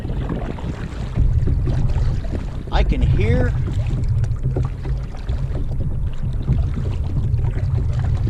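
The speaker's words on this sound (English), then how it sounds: "we're going to get into some wind and chop" Steady wind roar and low churning choppy water slapping against a Big Fish 120 kayak, with a brief voice speaking partway through.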